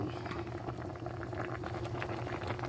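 A pot of sinigang na bangus, milkfish in sour broth with vegetables, boils steadily with a continuous bubbling and popping heard close up.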